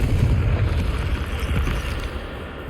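A Confringo blasting curse erupts in Hogwarts Legacy: a loud, close, dense rumbling burst that slowly fades over a couple of seconds, with no speech.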